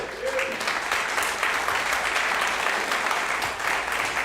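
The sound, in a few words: congregation applause in church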